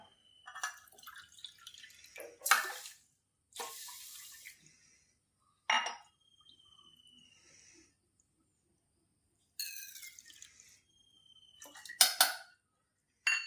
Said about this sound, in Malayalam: ആദ്യമേ നമ്മൾ ഈ സൂചി ഗോതമ്പ് നിന്ന് വെള്ളത്തിൽ വെള്ളം ഒഴിച്ച് ഒന്ന് കഴുകി എടുക്കാം